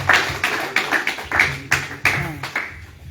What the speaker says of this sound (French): On ne peut qu'applaudir une deuxième fois.